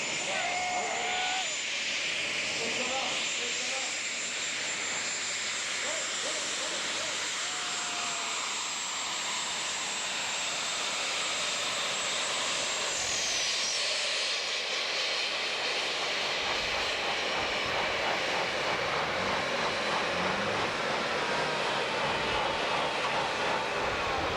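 A pulling tractor's engine roars loudly and continuously as it begins a pull at a tractor pulling event in Draiso, France, a sustained mechanical drone under crowd noise and announcer chatter.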